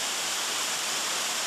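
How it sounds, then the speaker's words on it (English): Cascading water pours over overhanging stair-step rock ledges at a West Virginia waterfall set in a natural amphitheater, a steady, dense broadband roar with no breaks or voices. "the sounds of cascading waters echo and thunder melodiously, much as a choir in a cathedral"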